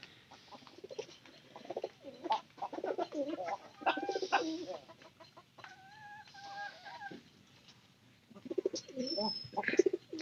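Pigeons in a home loft cooing in soft, repeated throaty bursts, close and clear, with some wing and movement noise between the calls.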